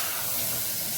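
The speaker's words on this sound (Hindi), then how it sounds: "तो अब हम गोश्त को भी अच्छे से भूनेंगे।" Mutton pieces sizzling and frying in a pot for biryani, a dense continuous hiss of spitting oil, close and steady throughout.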